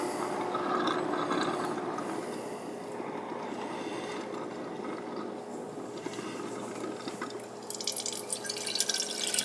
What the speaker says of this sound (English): Bleeding all the air out, so I got water coming out the